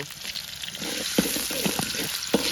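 Chopped onion with cardamom, cinnamon, bay leaf and cloves fries in hot oil in a pan for a country chicken bhuna, giving a steady close sizzle with a few sharp stirring knocks and scrapes.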